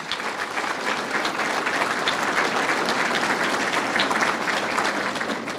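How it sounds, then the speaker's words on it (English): Steady audience applause fills a hall of fame ceremony for the NEAR organization, a dense, even wash of many hands clapping that holds at constant loudness throughout with no talk over it. "could you please give him a round of applause for his gift?"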